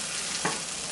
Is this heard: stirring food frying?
yes